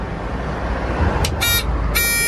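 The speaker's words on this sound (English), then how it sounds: "really nice loud buzzer, which is brilliant" A loud electronic indicator buzzer inside a car sounds in a few short pulses, the last one longer, over a steady low cabin hum.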